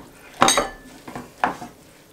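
A utensil scrapes and knocks against a pan while eggs are mixed into a soy-sauce dish, with two or three sharp clatters amid softer stirring, close and moderately loud. No one speaks.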